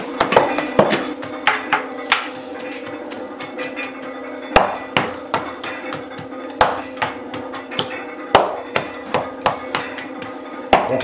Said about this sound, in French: on le casse avec un marteau pour pouvoir répartir sur la meule